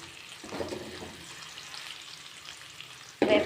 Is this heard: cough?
no